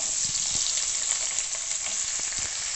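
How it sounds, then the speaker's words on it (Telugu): Thinly sliced onion pieces frying in oil in a pan for a street-style masala Maggi, a steady bright sizzle with occasional faint stirring taps, close and continuous. "వేగించుకోవాలి ఎర్రగడ్డ ముక్కలు"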